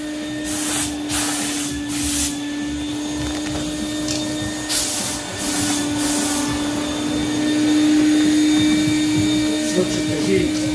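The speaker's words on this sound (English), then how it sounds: "Turn on the fan." A fan in an automotive paint booth, used while repainting a 1996 Cadillac Fleetwood, gives a steady loud whooshing hum with a constant tonal drone, while short sharper hisses and muffled voices come and go over it.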